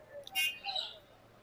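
Pigeons at a large pigeon market in Khulna give a few brief, soft chirping calls over about a second, fairly faint and close, with no speech.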